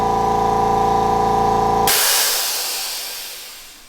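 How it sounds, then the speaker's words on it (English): A DeWalt Extreme Quiet hot dog air compressor drones steadily at close range, then cuts off as its blow-off valve releases a loud, sharp hiss that fades gradually over the next couple of seconds. "the blow-off valve is way louder than the actual compressor."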